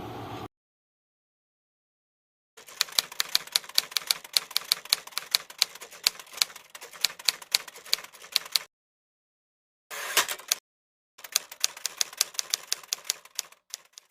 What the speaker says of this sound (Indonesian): Sayuti, tolong kau ketikkan naskah ini